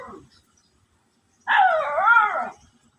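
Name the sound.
dogs barking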